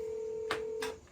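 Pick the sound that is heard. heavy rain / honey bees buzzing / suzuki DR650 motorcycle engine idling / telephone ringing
telephone ringing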